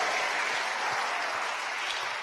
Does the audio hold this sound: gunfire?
no